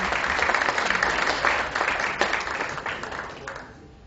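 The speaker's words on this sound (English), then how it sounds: "A huge round of applause once again." A large audience applauds at a healthcare industry annual event, steady broadband clapping that holds for several seconds before tapering off toward the end.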